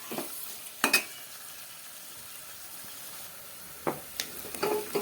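Onions browning in a pan for a Punjabi chana dal and pumpkin dish give a faint, steady sizzle, broken by a few sharp stirring scrapes near the start and toward the end.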